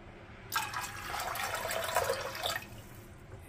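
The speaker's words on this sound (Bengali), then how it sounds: "এই 2 কাপ মতো জল দেব, 1 কাপ। আর একটু জল দিতে হবে।" Water pours into lentils in a pressure cooker in one steady splashing stream lasting about two seconds, close and fairly bright, then stops, leaving a quiet room with no talk.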